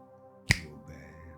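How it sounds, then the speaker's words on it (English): A single sharp finger snap rings out close and clear against near silence, followed by a soft lingering tail. "if I perhaps snap my fingers"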